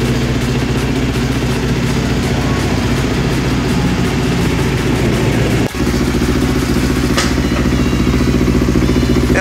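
Yamaha R25 race motorcycle set up for the 2018 ARRC season, fitted with a titanium exhaust, idling steadily and loudly up close for the whole stretch, with only a brief dip partway through.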